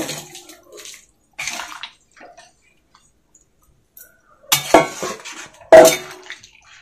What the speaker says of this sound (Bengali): এখন এই ফুলকপি আলুগুলো দিয়ে দিব।